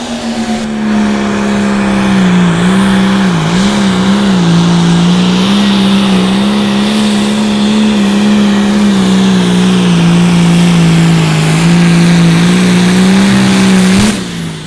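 A light limited pro stock pulling tractor's engine roars loud and sustained at an outlaw tractor pull in Madison, South Dakota, a heavy droning rumble with slight wavering pitch, ending abruptly.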